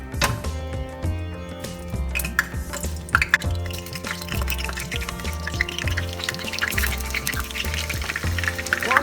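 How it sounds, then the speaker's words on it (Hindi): Pointed gourd (parwal) pieces sizzle in hot mustard oil, a dense crackle of popping and spitting oil with some scraping clatters in a home kitchen, with no talking. "परवल फ्राई करना है"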